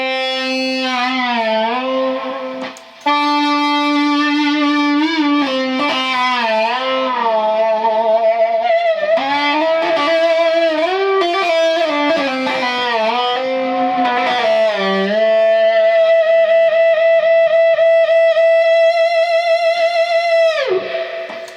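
An overdriven electric guitar, a Stratocaster with tremolo, plays sustained, singing lead notes with bends, ending on a long held note that drops away.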